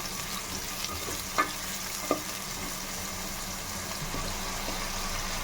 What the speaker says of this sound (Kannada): ಈರುಳ್ಳಿ ಸೇರಿಸ್ಕೊತಾ ಇದ್ದೀನಿ ಈರುಳ್ಳಿ ಸ್ವಲ್ಪ ಗೋಲ್ಡನ್ ಫ್ರೈ ಆಗಲಿ